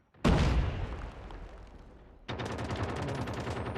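Gunfire in the mobile shooter Call of Duty Mobile: a loud close burst of shots that decays, then a rapid sustained automatic volley.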